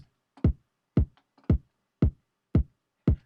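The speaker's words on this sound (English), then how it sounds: "My kick drum is the Portal drum." Six punchy kick drum hits from a Portal drum sample repeat at an even tempo, each a deep thump with a short click, alone with silence between.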